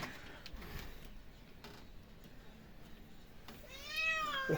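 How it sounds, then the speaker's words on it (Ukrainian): A house cat meows in a short rising-falling call near the end, after a stretch of quiet indoor room noise; a soft purr may sit faintly underneath. "Ну чого ти мурчиш?"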